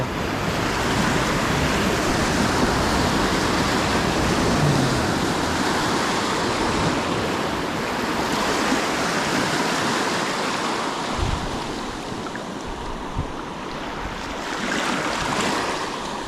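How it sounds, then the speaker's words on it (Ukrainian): Large waves break and wash continuously at a seaside fishing spot on a sunny day, a loud, steady roar of surf with gusty wind buffeting the microphone. "Сейчас знову будуть хвилі. Причому хвилі значні."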